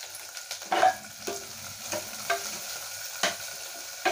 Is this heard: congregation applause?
no